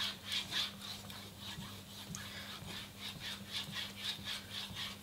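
A blade polished on a Shapton Kuromaku ultrafine stone gives soft, faint, rhythmic rubbing strokes that repeat steadily over a low background hum.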